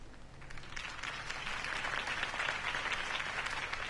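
Crowd applause inside a Batman video game on PS4: dense, steady clapping from a large audience, sustained at even loudness for the whole stretch.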